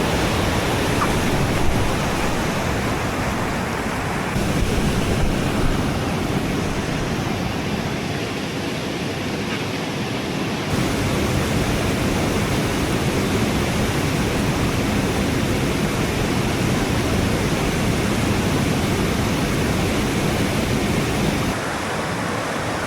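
A big, muddy river rushes past in a dense, unbroken roar, loud and close, filling the whole stretch with no talk over it.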